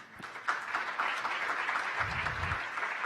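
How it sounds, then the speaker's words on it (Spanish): A conference audience welcoming a speaker with a short burst of applause, clapping steady and moderately loud, with a few louder claps near the start. "le damos la bienvenida con un fuerte aplauso al señor Rafael Blanco"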